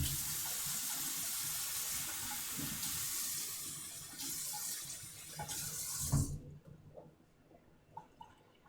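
Kitchen tap water runs in a steady, close hiss for a batch of hummus, then shuts off abruptly, leaving faint clinks and room noise.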